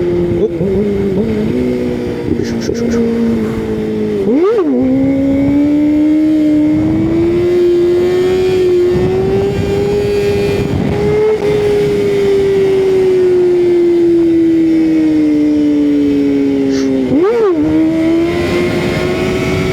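A motorcycle engine revs steadily while the bike is held up in a wheelie, a loud, sustained drone that rises and falls in pitch with two sharp throttle blips partway through.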